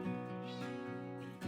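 An orange cat meows in one long, drawn-out call close by, harmonic and steady for over a second, ending with a brief rise.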